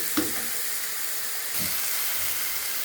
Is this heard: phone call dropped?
no